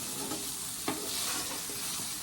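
Eggplant slices frying in a pan give a steady, hissing sizzle, with a single sharp clink of a utensil partway through.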